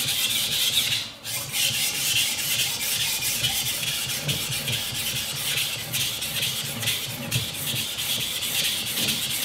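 A machete blade being sharpened gives a continuous close rasping file sound, steady and loud throughout with a brief dip near the start, and no voices.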